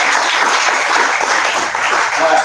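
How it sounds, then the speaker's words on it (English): Steady applause from an audience at an entrepreneur meetup in Dallas, a dense even wash of many hands clapping at close range, continuous and fairly loud throughout with no pauses. "Give him a round of applause"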